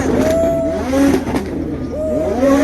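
A McLaren 720S at a Houston car meet revs nearby, its engine note rising and falling in repeated loud pulls with a harsh, rasping tone.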